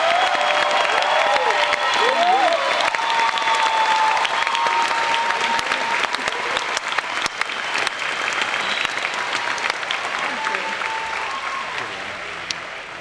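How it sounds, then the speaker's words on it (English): Long round of audience applause at a 2016 university commencement ceremony, many hands clapping steadily with some crowd cheering and faint voices mixed in, gradually easing toward the end. "We would like to give you a round of applause"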